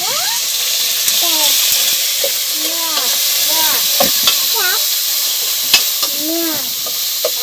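Crickets stir-fry with lemongrass and chili in a pan, giving a loud, constant sizzle and hiss with occasional scraping stirs, while voices talk over the cooking.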